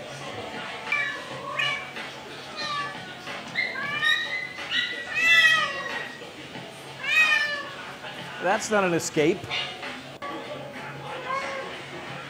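A cat meows repeatedly in short rising and falling cries, fairly close, under and between a person talking.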